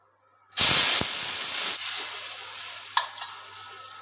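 A dosa batter lands in hot wood-pressed groundnut oil on a pan with a loud burst of sizzling that settles into a steady, softer frying hiss, with a couple of small pops near the end.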